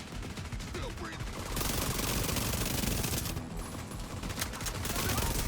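An SMG fires in The Division 2 video game, with dense, continuous rapid gunfire filling the whole stretch at steady loudness and a brief lull before the shooting resumes.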